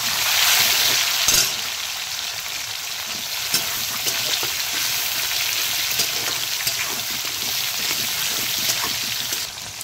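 Onion and tomato frying in a pan, loud continuous sizzle and crackle with scattered spatters and stirring clatter, no talk.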